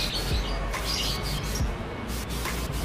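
Canaries chirping inside a bird shop, scattered short tweets and squawks over a steady low hum of room noise, with no talking.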